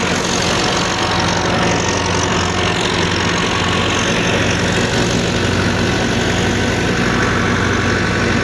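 A Massey Ferguson 385 tractor engine runs at a steady 1400 rpm, a continuous loud, even diesel rumble and throb that holds for the whole stretch with no talk.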